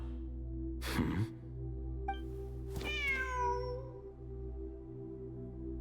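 In the Genshin Impact video game, a cat gives a short meow and then a longer, rising and falling meow over a steady low ambient game hum.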